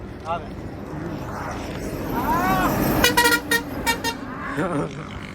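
Several truck horn blasts sound around the middle and end, tonal and honking, over a rumbling traffic background with voices in between, heard while walking along a road.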